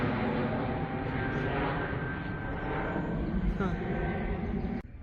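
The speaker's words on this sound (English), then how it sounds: "Man, all the airplanes are taking off." Airplanes taking off, heard from a hiking trail in Norway: a loud, steady engine roar with a faint whine fills the whole stretch before cutting off abruptly near the end, with a voice speaking over it.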